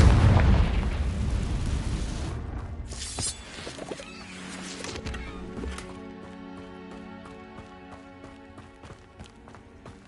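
A Confringo fire spell explosion in the Hogwarts Legacy game, a loud blast at the start that decays into rumbling and crackling debris, fading under a tonal game score.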